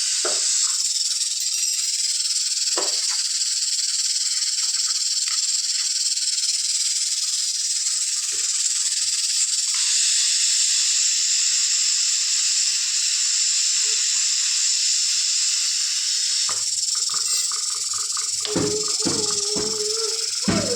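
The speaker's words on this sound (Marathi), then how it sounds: "चपात्या करते तर कुकरचा शिट्ट्या व्हायला लागले" A pressure cooker hisses a loud, steady jet of steam through most of the stretch, with brief rattles and clatter near the end in a home kitchen.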